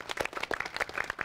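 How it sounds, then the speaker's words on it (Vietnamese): Brief burst of TV game show studio audience applause, a dense patter of many hands clapping at moderate level with no voices over it. "một tràng pháo tay chúc mừng gia đình thứ ba"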